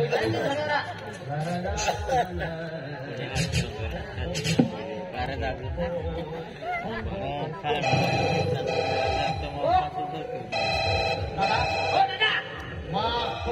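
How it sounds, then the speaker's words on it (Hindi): A phone ringtone chimes repeatedly through lively chatter, with several voices talking over the ringing throughout. "mobile phone Alo"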